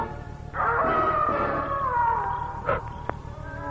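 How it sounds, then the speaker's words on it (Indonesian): Dog howling as a radio drama sound effect: one long, loud wavering howl that rises and falls for about two seconds, followed by a short yelp, with no voices. "Anjing itu melolong lagi."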